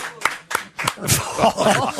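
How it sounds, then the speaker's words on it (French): Pierre Faucu clapping in a French TV talk-show studio, a few sharp separate claps that grow into a short, close burst of applause, with light chuckling mixed in. "Pierre Faucu applaudit"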